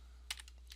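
Numbers are typed into a spreadsheet on a computer keyboard, a few quick, faint key taps over a steady low hum.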